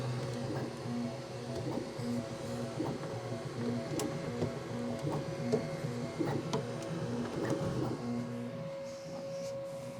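A QIDI Q1 Pro 3D printer running a print, a steady mechanical hum with rhythmic, pulsing stepper-motor whines and small ticks repeating close by, with no talking.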